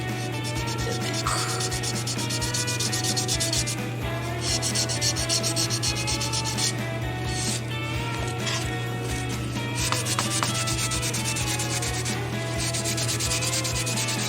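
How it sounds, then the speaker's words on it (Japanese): Coarse sandpaper rubs steadily over a resin garage-kit body of a 1/12 Mazda 787B during surface prep, a continuous close scratchy back-and-forth at an even level, with a low steady hum underneath. "下地処理の時点だったらある程度粗い番手のペーパー当てても、その後 ちょっと番手上げてあげればねなんとでもなるんで"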